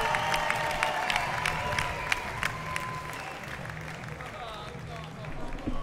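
An MMA crowd at Lions FC 10 applauds after the fight, with a dense, continuous wash of clapping and cheering. A French commentator talks over it throughout.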